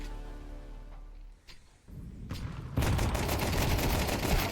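MAC-10 submachine gun fire in Counter-Strike: rapid automatic bursts fade in partway through, then become a loud, sustained stream of shots that fills the rest of the clip.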